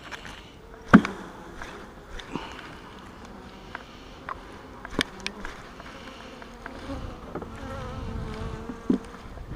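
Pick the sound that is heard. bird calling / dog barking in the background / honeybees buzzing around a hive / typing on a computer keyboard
honeybees buzzing around a hive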